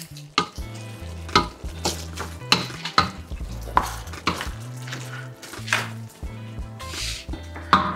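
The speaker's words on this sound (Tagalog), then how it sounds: "Tapos, haluin nyo lang konti." Creamy pork belly stirred in a pan after a small splash of fish sauce, with a series of distinct scraping and clinking utensil strokes over a soft sizzle and steady background music.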